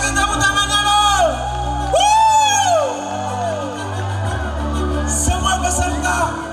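An audience at a final of a psalm-singing competition cheering and whooping, rising shouts over a crowd roar with music underneath, loud and continuous.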